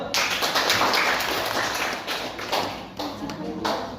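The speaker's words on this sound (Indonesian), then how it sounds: "Oke, tepuk tangan dulu." Students in a school arts classroom clap their hands, producing a busy patter of close claps for about four seconds, with some voices mixed in underneath.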